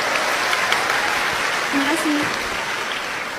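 Dense audience applause rolls on steadily and loudly through a crowded public event with a political figure present, while a voice on the microphone speaks over the clapping.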